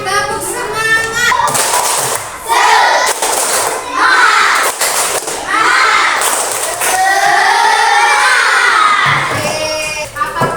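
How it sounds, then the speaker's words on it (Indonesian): A school class performs a spirit clap chant (tepuk semangat), children shouting and clapping together in loud rhythmic bursts, voices rising and falling in unison with brief pauses between phrases. "sama-sama coba tepuk semangat"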